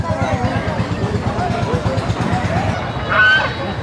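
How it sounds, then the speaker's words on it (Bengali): A large Chinese duck at a village market gives repeated harsh honking calls close by, with a louder call near the end, over market chatter and voices. "অনেক বড় চীনা হাঁস,"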